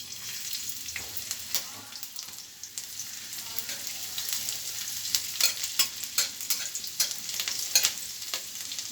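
Ginger and garlic frying together in hot oil for egg chops, a steady close sizzle with frequent sharp crackles and spatters and the occasional scrape of stirring, no voices.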